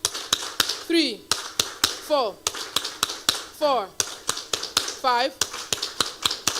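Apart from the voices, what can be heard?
audience clapping hands in rhythm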